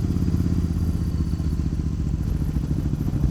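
A Suzuki Intruder motorcycle engine rumbles steadily, loud and close, with rattling clatter as it rides in about third gear over a loose, rough rural road.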